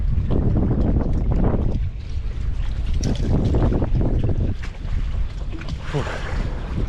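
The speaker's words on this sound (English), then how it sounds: "It's getting windy." Strong wind buffets an open fishing boat near dock pilings, a loud continuous roar with gusty surges throughout and no talking.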